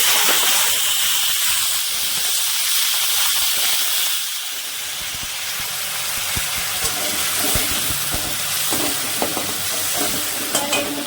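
Tomato going into hot oil with tempered dry red chilli, whole garam masala and cumin, a loud close hiss and sizzle with a brief dip, then spluttering crackles and stirring.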